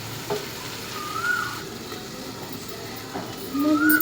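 Masala for an ivy gourd curry sizzles and crackles in hot oil, with occasional stirring scrapes and brief clinks. It stays close and fairly loud, with no voice over it.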